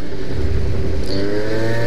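Piaggio Zip 50cc scooter engine while riding on mountain roads, a close, steady buzzing drone with rising pitch, loud and uninterrupted with no talk.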